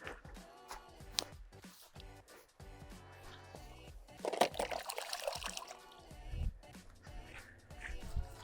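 Cold water pours and trickles over a landed carp resting on an unhooking mat, with irregular splashes and drips coming close and fairly quiet, with no talk.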